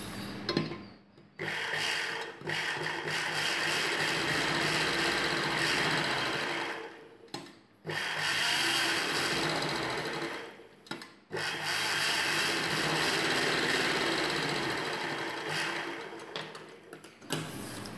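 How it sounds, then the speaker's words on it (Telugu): A sewing machine stitches blouse pieces together with a seam around the edge, a rapid mechanical whir running in long steady bursts, close and loud, broken by a few short pauses. "చుట్టూ కుట్టు వేసుకొని జాయింట్ చేసుకోవాలి."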